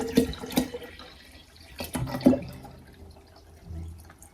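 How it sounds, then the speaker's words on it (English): Filtered water is poured into a jar in a few short splashing gurgles, loud and close, with quieter trickles and pauses between them and no talking. "I'm gonna put the water in, just some filtered water"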